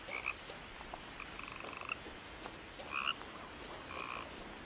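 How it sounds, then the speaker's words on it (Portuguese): A frog croaks in short, repeated calls against a faint, steady night ambience in the video game What Remains of Edith Finch. "Uma porra de um sapo cantando umas ideias"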